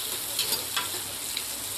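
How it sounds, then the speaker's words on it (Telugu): Green chillies fry in three to four spoons of hot oil for a mutton curry, a steady close sizzle with soft stirring, and no one talking. "త్రీ to 4 స్పూన్స్ ఆయిల్ పోసి అందులో మనం తరుముకున్న పచ్చిమిర్చి వేయాలి"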